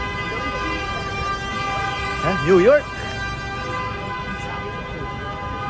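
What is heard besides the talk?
car horns honking in Times Square, New York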